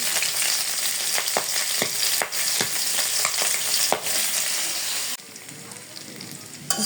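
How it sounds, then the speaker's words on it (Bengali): Native magur catfish fry in hot oil in a pan, a steady close dense sizzle with occasional spits and pops, easing quieter near the end. "দেশি মাগুর মাছ ভেজে নিচ্ছি"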